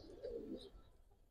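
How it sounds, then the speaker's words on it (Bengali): A Giribaz pigeon gives a soft, brief coo, faint and close, in a quiet setting among pigeons with low background noise. "পুতুল একটা কবুতর ভাই"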